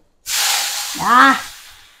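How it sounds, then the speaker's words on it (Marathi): Hot oil in a kadhai bursts into a loud, close sizzling hiss as taro leaves go in for a thin taro-leaf curry, the spatter swelling briefly before fading. "ह्या बघा तेल उडाला"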